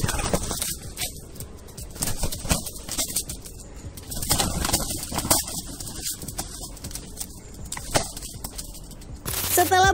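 A rooster and a peacock fight: close, irregular flurries of wing flaps, scuffling and bird calls, with rough bursts of commotion throughout.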